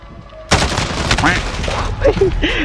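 CR-56 AMAX assault rifle fire in Call of Duty: Modern Warfare multiplayer, with a sudden loud burst of shots kicking in after a quiet start, followed by rattling game sounds, with a voice talking over it.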